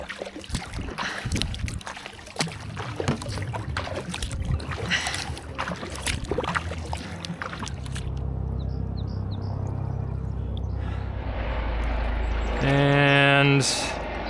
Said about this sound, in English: Just paddled from Vermont to New York.